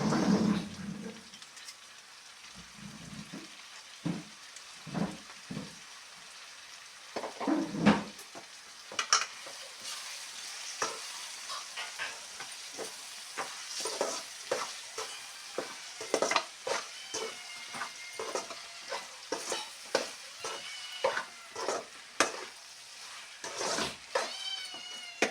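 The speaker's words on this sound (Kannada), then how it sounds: "ಒಂದು 5 ನಿಮಿಷ ಫ್ರೈ ಆಗಲಿ ಇದು." Vegetables for a vegetable pulao fry in a pan with salt and masala, giving a soft continuous sizzle broken by frequent clinks and scrapes of a stirring spoon, fairly quiet and close.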